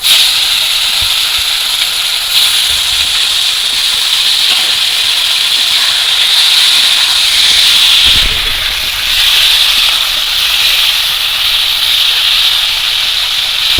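Loud, continuous sizzling hiss of chicken frying in hot oil, crackling steadily close by with brief swells, no talking.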